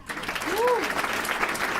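Audience at a tech panel event clapping in a steady burst of applause, with a voice talking over it.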